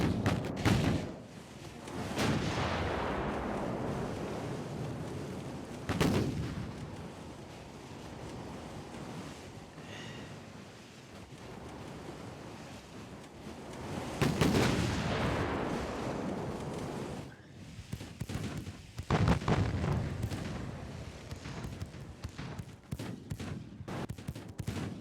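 Naval gunfire in Ultimate Admiral Dreadnoughts, a warship exchanging 8-inch and 2-inch shell fire at sea: repeated heavy booms land every few seconds over a constant roar of wind and surf, some loud and close, others dull and distant.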